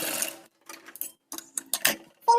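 A sewing machine stitches the hem of a kurti bottom in bursts of whirring run separated by short pauses, close and moderately loud, with no talking.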